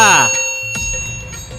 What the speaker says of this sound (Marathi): चॅनलला सबस्क्राईब करा आणि घंटी नक्की वाजवा